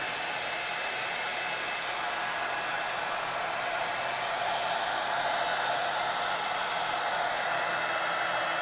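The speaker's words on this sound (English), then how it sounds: "And I'm going to melt this embossing powder." A heat tool blowing steadily to melt embossing powder on a mixed media craft piece, giving a constant close whooshing, fan-like roar with no pauses and no voices.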